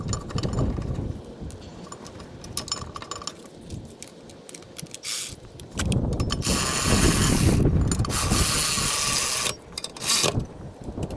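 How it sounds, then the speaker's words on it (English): Ratchet clicking while tightening the two bolts on a rear brake caliper mount of a 2018 Toyota Sienna, with bursts of close, busy mechanical clatter and rapid clicks that stop and start. "we're going to be installing the mount with 2 bolts"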